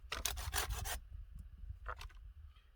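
A hand saw rasps through a bonsai branch in quick back-and-forth strokes for about a second, then a short second burst of sawing follows after a pause, close and fairly quiet.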